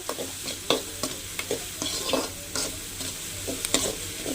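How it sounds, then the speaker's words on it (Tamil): Onions frying in a pan while being stirred, a quiet continuous sizzle with regular sharp spatula scrapes and taps, close by with no voices. "வெங்காயம் நல்லா வதங்கணும்"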